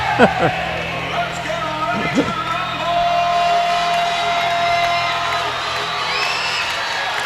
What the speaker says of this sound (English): This crowd is ready to go.